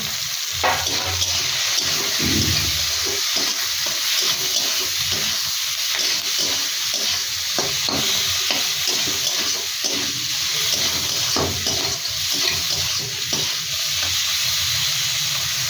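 Shrimp frying in a pan with onion greens and green chillies, a steady close sizzle with scraping stirs, clinks and a soft watery hiss throughout.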